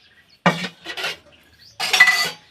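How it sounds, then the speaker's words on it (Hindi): Metal household utensils and pots are banged and clattered in three sharp bursts, close and loud, with quiet gaps between them. "बर्तन पटका जाता है"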